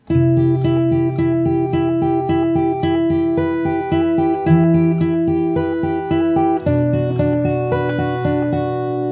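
Fingerstyle acoustic guitar repeating an intro phrase, steady plucked arpeggios over low bass notes, close and clear with no voice.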